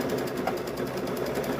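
A sewing machine stitches along an apron strap with a fast, steady, even mechanical chatter, close and continuous throughout.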